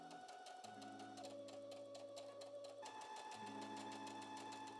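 A sewing machine runs steadily while stitching a trouser inseam, a fast even mechanical whir with rhythmic needle ticks that pauses briefly and restarts partway through, close and alone without talk.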